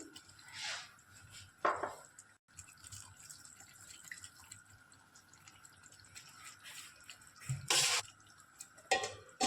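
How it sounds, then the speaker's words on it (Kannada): Water is splashed into a pan of cooking chicken chops, bringing a few short pours and sizzling bursts over a quiet kitchen background, near and fairly soft. "ಸ್ವಲ್ಪ ವಾಟರ್ ಹಾಕ್ತೀನಿ"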